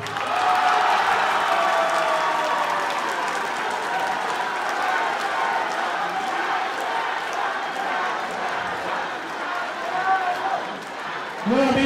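Audience applauding at a political party event for candidates, a sustained wash of clapping from a crowd with scattered voices and cheers mixed in.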